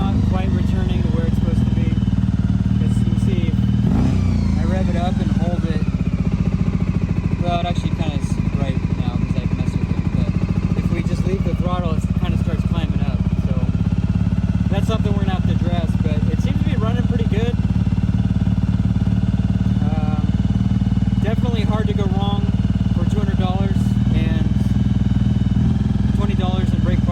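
Engine of an abandoned $200 motorcycle with a sticking throttle rumbles close by, rising in a few revs and held up before easing back toward idle, with people talking throughout.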